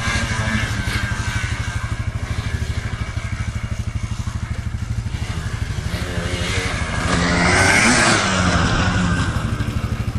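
An ATV engine revs hard through a jump, its loud, steady drone climbing to a stronger surge about two thirds of the way in, close and continuous throughout.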